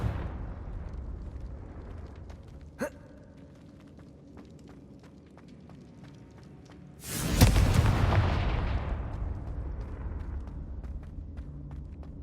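A Confringo fire spell blasts in the Hogwarts Legacy video game, a sudden loud, broad explosion that hits midway and rolls into a long, rumbling decay, preceded by a brief sharp crack and low ambient game sound.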